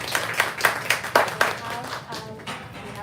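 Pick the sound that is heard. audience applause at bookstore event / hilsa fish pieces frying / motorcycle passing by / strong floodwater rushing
audience applause at bookstore event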